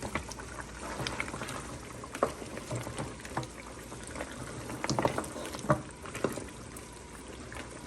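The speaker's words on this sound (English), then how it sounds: "Water just boil up." A pot of water boils steadily for Jamaican-style cowfoot, with continuous bubbling and gurgling, plus occasional louder pops and clatters, and no talking.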